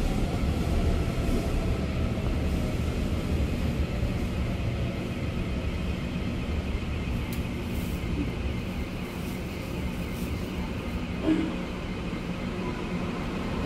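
A silver-green EMU900 ten-car electric commuter train on Taiwan's mountain line rolls past with a steady, fairly loud rumble and rail noise that eases slightly toward the end.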